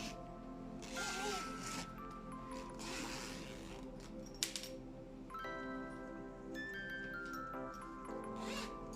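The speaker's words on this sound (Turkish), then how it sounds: "Fermuar bu şekilde." Zipper on a handmade baby pillow being run open and closed, several quick scratchy zips with clicking metallic teeth, close up, against a faint room background.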